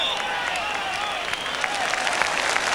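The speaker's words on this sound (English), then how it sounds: "warm applause around the ground for Ali Dick" A large stadium crowd at a UEFA Cup football match between Spurs and Bayern Munich applauds warmly and steadily for a substituted player, with scattered claps rising out of the sustained wash.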